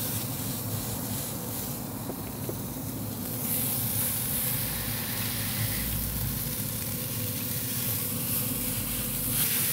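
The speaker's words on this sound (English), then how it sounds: "That sizzle tells me we're immediately starting to create a really nice crust on here." Burgers sizzle on a hot griddle, a steady crackling hiss that swells louder partway through and holds, with no voices.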